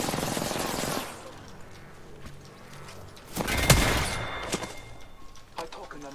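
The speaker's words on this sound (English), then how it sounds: "Listen up, I'm getting shot at." Video game gunfire crackles in dense bursts at the start and again in the middle, loud and close, with game voice lines and talk over it.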